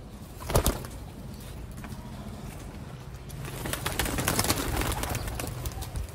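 Sialkoti pigeons coo softly amid a busy, noisy loft, with a brief louder burst early on and a steady wash of bird sounds and rustling throughout.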